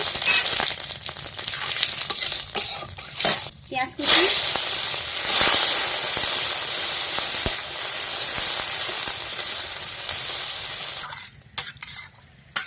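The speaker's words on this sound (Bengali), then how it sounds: "তেল গরম হয়ে গেছে বন্ধুরা একটু জিরে ফোড়ন দিয়ে দেবো শুকনো লঙ্কা তেজপাতা" Cumin, dried chillies and bay leaves hit hot oil in a karai and start a loud, steady sizzle and hiss, punctuated by stirring knocks, then quieten near the end as a voice talks over it.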